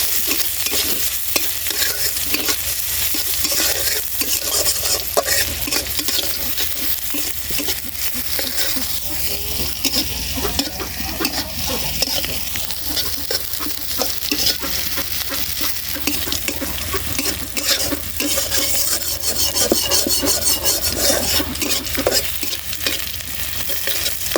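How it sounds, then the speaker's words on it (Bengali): Whole cumin seeds and chopped onion fry in hot oil for a radish curry, giving a continuous loud crackling sizzle with frequent stirring scrapes throughout. "ফোড়ঙে দিলাম কটা গোটা জিরা পেঁয়াজ কুচি"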